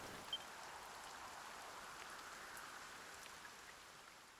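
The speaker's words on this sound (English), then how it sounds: "Lo, the rain doth fall" Soft, steady rain falls continuously in the Dragon Quest 1 remake, an even hiss of drops with no talk over it, fairly faint and unbroken.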